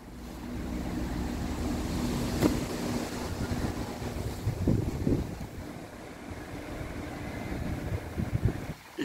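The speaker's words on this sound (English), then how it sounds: "Bloody windy." Strong wind gusting across a railway station platform at Dore and Totley, a steady rumbling buffeting of the microphone that swells and eases, with a few brief knocks near the end.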